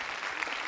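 Audience applause fills a hall at a Tamil speech competition, a brief, dense burst of steady clapping at moderate volume with no speech over it.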